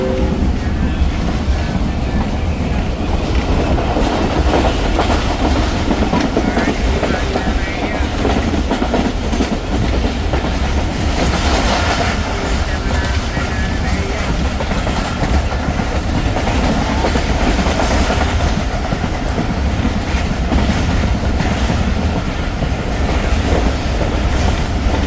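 Subak Raftar railcar train running at about 100 km/h, heard from inside as a loud, continuous rumble and roar of wheels on track with rushing wind and faint rhythmic clatter, and a brief voice beneath it.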